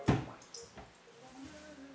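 A UE Boom speaker drops into a bucket of water with one quick splash, followed by faint drips and soft trickling in a quiet space.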